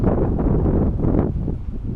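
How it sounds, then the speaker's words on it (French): Strong wind roars and buffets the microphone in a continuous, rumbling gust, loud and close. "Le vent souffle dans la bonne direction."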